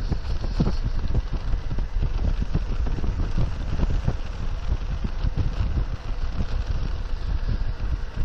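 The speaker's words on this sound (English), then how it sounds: "it's a little breezy, but it's not too bad" Breezy outdoor wind on a cold Christmas Day, a constant rough rumble buffeting the camera microphone, loud and steady throughout with no talk.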